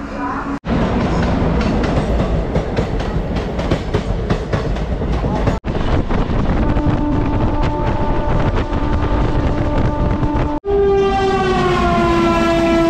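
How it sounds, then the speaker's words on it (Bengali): A Rajdhani Express train rushes past close by on the Bardhaman–Howrah chord line, loud rumbling and clattering wheels with a horn blast near the end, in three abrupt segments. "রাজধানী বেরিয়ে গেল, রাজধানী।"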